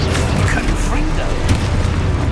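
Confringo explosive spell going off in Hogwarts Legacy amid rapid spell-casting combat, a dense loud booming crackle that runs continuously through the short moment.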